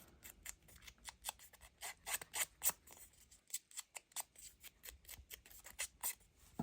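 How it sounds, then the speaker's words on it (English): Quiet, close snips of small scissors cutting paper, coming in quick irregular bursts with a short pause midway. "let's get my little scissors."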